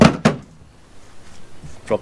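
Drawer boxes dropped into slots of a rear drawer system in a Ford Ranger Raptor tray, two sharp close knocks at the start and another near the end with quieter shuffling between.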